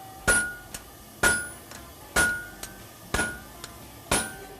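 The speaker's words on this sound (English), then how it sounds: "Do it on a larger scale with a sledgehammer and a flatter." A sledgehammer strikes a flatter laid on a horseshoe at the forge, five loud ringing metallic blows about a second apart, each followed by a lighter rebound tap.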